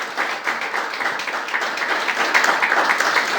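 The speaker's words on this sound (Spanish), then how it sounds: "damos un aplauso al Señor por eso" A church congregation applauds during a sermon, a sustained, fairly loud roar of many clapping hands that swells slightly toward the end, with no voices over it.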